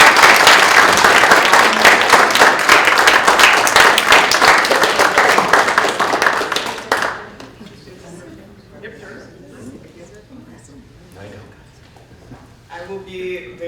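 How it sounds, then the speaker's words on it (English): An awards luncheon audience gives loud, dense applause that lasts about seven seconds, then drops to quiet room noise and a few scattered stray claps. "Ladies and gentlemen, a round of applause."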